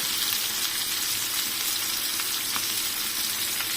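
Chicken biryani ingredients frying in a pan, a dense, steady sizzle close up, with faint stirring scrapes and no talk.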